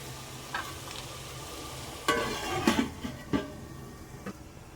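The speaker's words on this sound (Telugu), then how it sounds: "ఇప్పుడు బాగా ఆనియన్స్ వేగనివ్వాలి ఫ్రెండ్స్." Onions fry under a lid in a pan with a quiet, muffled sizzle. A few sharper clinks and scrapes stand out in the middle, and there is no speech.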